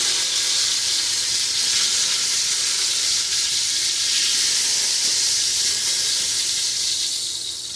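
Chicken pieces go into a nearly overfull pot of simmering homemade gumbo with boudin, giving a continuous loud hiss and sizzle that stays steady for several seconds and eases slightly near the end.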